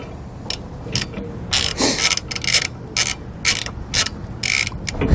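Nuts being tightened on a Fastway e2 weight distribution hitch with a ratchet, giving repeated short bursts of close metallic clicking with brief pauses between strokes.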